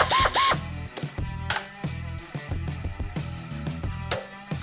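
Craftsman 3/8 inch air ratchet running in short loud bursts of whirring and clicking, with pauses and softer mechanical knocks between them, close up and with no voices.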